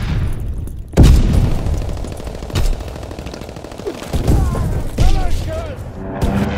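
Strafing run by fighter aircraft in the World War II shooter Call of Duty WW2: loud booms and rapid bursts of gunfire hammer repeatedly over several seconds, with a radio-style voice calling in between.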